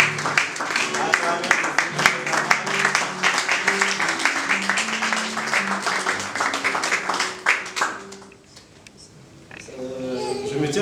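A church congregation at a Full Gospel service in Togo claps and cheers in sustained applause that fades out toward the end, with voices and music mixed in.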